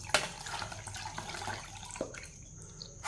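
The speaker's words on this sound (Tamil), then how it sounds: "இப்போ வந்து தண்ணி வச்சுக்கணும் இல்லையா, இதை வந்து ஜாரில் ஊற்றிக்கிடுவோம்." Water is poured into a mixer jar in a home kitchen while preparing a tomato drink, a soft splashing trickle with a few sharper drips, quiet and close.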